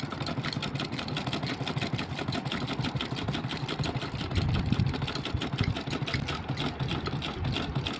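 A sewing machine stitches a plain blouse in a fast, even mechanical chatter. It runs nonstop and close up for the whole stretch, with no voices over it.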